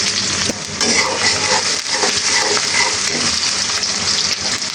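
Onion frying in a pan for a raw jackfruit curry, a loud, dense sizzle with stirring scrapes throughout, briefly dipping near the start, with no talk.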